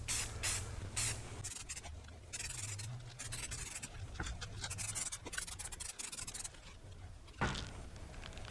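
Short bursts of spray paint hissing onto a bathroom towel bar in light passes, several quick sprays separated by brief pauses, close and fairly quiet, with no one speaking.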